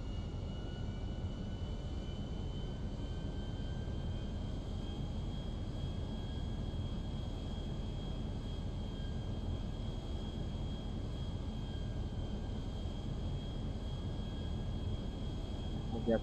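Jet airliner in the GTA V video game on approach to land on a runway, a steady continuous engine drone with a faint high whine, constant and unbroken throughout with no talk over it.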